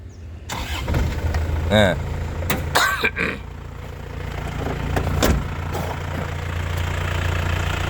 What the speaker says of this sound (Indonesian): Kita tes mesinnya. Kita nyalakan mesinnya lur ya.